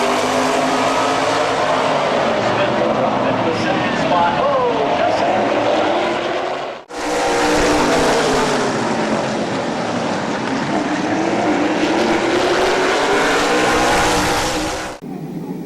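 Race cars circle the track at Midvale Speedway on a green-flag restart, a continuous loud engine roar with rising and falling pitch as cars sweep past, briefly cut off partway through.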